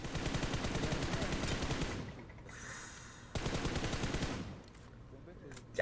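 Rapid automatic gunfire in the mobile battle-royale game PUBG Mobile: loud, dense bursts of shots that stop briefly, then resume in another fast burst.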